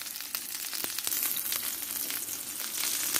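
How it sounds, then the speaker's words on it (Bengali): Bottle gourd leaves fry in hot oil in a pan, giving a steady, close, moderately quiet sizzle with crackling pops throughout and no voices. "এই যে লাল লাল করে ভাজা হয়ে গেছে, আমি এবার আস্তে আস্তে নামিয়ে দেবো।"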